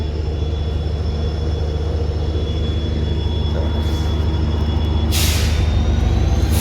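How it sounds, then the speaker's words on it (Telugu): The Rameswaram–Tambaram Express starts moving on the neighbouring track, a steady heavy rumble with a sustained tone and a burst of air-brake hiss near the end. "ఆ ట్రైన్ స్టార్ట్ అయింది,"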